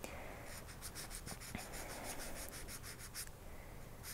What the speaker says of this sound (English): supporting that edge, give it a kind of gentle sanding to see what we're working with here